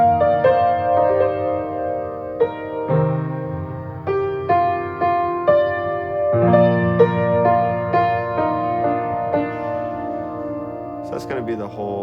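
A piano plays the intro of a song with sustained chords and a gentle melody, steady and close, with a brief noisy rustle near the end.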